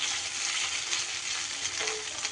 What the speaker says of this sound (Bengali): কর্নফ্লাওয়ার মাখিয়ে রাখা ভেন্ডিগুলোকে সুন্দর করে ভেজে নেব।